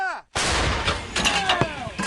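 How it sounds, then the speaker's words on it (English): An artillery cannon fires from a Ukrainian gun position near Marinka: a brief voice comes first, then a single loud, close blast that rolls into a sustained rumbling decay. "Shot fired."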